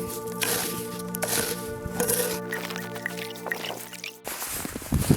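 Water trickles and drips steadily from a tap into a container, close by, over a constant background hum, ending in a brief clunk.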